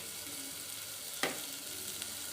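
Steady sizzle of food frying in a pan while preparing ulava charu, a Telugu horse gram soup, with a brief sharp clatter of stirring midway; close and continuous.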